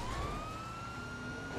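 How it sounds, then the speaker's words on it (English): Police car siren in the GTA V NoPixel roleplay game, a steady rising wail sweeping upward across the short stretch, loud and close, with engine rumble underneath and no speech. "Cut the siren."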